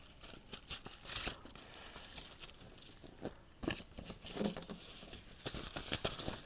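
Paper tears and crinkles softly as a City Bank Amex debit card package is opened, quiet scattered rips and rustles with short pauses in between.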